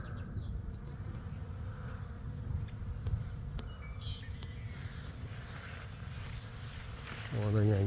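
Bees buzzing around tall wintercress flowers, a continuous low droning hum of many insects filling the air outdoors, with occasional passing louder buzzes and a brief louder noise near the end.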